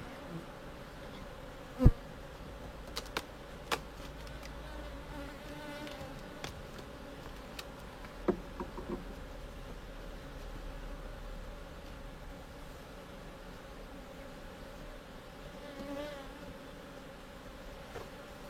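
A dense, steady drone of honey bees swarms around an open hive during an inspection, continuous and close, with a few sharp clicks and knocks from handling the frames.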